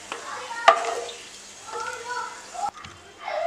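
Raisins fry in a pan for pineapple kesari, giving a soft, low sizzle with occasional light scrapes and clinks of a stirring utensil, while someone talks over it.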